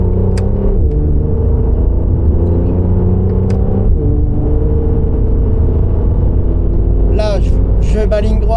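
Car engine drones steadily on a race track day at the Val de Vienne circuit, pitch dropping then climbing again as it accelerates out of a corner through gears, with brief tire squeal near the end.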